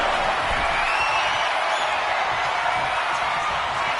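Arena crowd noise in the WWE 2K25 video game, a steady, loud roar of cheering fans that fills the whole stretch without letup.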